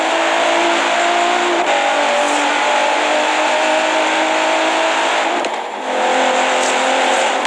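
In Forza Horizon 3, a race car's engine screams at full throttle with steady revving and shifting pitch, loud and continuous with short dips around gear changes, and no voices.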